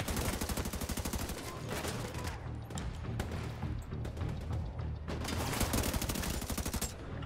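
Automatic rifle fire in The Division 2 sprays in rapid, loud bursts of closely spaced shots, with brief pauses between volleys and a continuous rattling rhythm up close.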